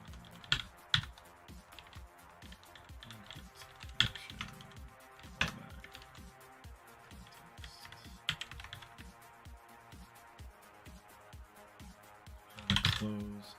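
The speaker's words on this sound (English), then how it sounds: "I'm like the worst typer ever." Steady keyboard typing during a coding session, a continuous run of quick clattering keystrokes with a few louder sharp taps and a brief dense burst near the end, close and fairly quiet.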